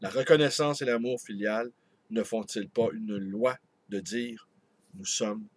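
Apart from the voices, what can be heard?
No everyday noise stands out behind the speech.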